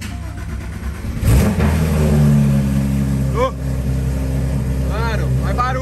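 A Porsche sports car in Miami revs hard, a sudden loud engine burst followed by a sustained rumbling idle with further blips, while people talk excitedly nearby.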